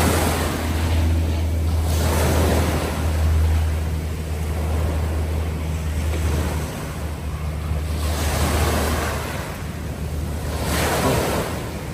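Sea waves roll and wash ashore at Hulhumale in the Maldives, with steady wind buffeting the microphone; the surf swells and recedes in broad pulses throughout, with no voices.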